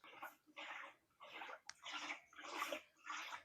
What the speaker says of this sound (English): Oh, I hear water.